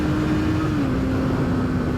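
A Honda CBR650R with an inline four-cylinder engine holds a steady, smooth revving drone with a slight pitch drop partway through, loud and continuous with no talk.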